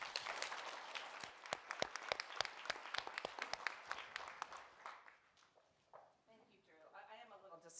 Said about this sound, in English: I only got one round of applause to start this